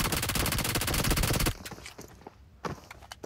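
Machine gun fire in PUBG Mobile, a loud rapid automatic burst lasting about a second and a half, then a few scattered distant shots and faint footsteps.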